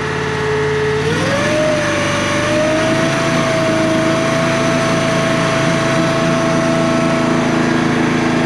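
Gas engine on an 18-24HD firewood processor fires up and rises in pitch as it settles into a steady, loud, close running drone, with no talk over it.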